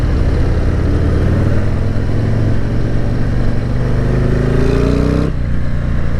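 A 2022 Harley-Davidson CVO Street Glide is ridden on the road, its engine pulling under acceleration with a rising tone through the gears, then a sudden drop at a shift, loud and close over wind noise.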